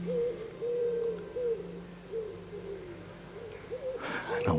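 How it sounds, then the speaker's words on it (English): Birds call repeatedly at Dunino Den, soft hooting coos in a steady, evenly spaced sequence, fairly close against quiet woodland, ending in a brief rustling clatter. "And I love the sound of the birds."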